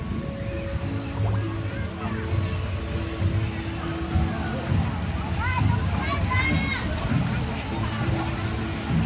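Flowing, splashing water at the Moana Journey of Water walk-through attraction at Epcot, a steady wash of rushing water close by with crowd babble and children's voices mixed in throughout.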